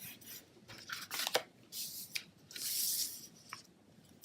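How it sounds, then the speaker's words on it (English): Paper is rubbed down firmly onto a card during papercrafting, a series of quiet, close, dry scraping and swishing strokes of uneven length with brief pauses between them. "you want to give it a good rub down so that way it stays adhered to your card"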